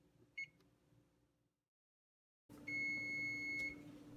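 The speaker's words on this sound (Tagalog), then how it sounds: "Patayin ang timer." An oven timer beeps in a quiet kitchen, with one faint chirp first, then a single sustained, fairly loud electronic tone lasting about a second.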